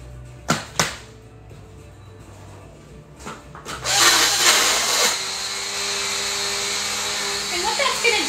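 A Cuisinart Smart Stick immersion blender purees Bulgarian carrot hot sauce with liquid, starting after a few knocks and a short pause, then a loud, steady whirring drone that runs on to the end.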